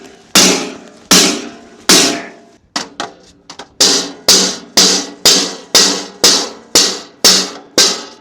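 Loud, sharp metallic strikes of a FireFit training hammer ring out about a dozen times in a steady, evenly spaced rhythm, each hit decaying briefly, close and clear with no talk.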